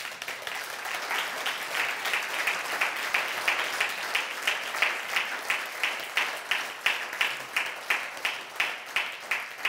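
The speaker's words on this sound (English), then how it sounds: "A round of applause to both of them." A large audience at a business presentation claps steadily, building into rhythmic, unified clapping toward the end, loud and continuous with no talking.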